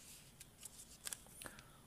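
Scissors snipping through folded origami paper, a few soft, quick crisp cuts clustered near the middle over a quiet background, close and faint.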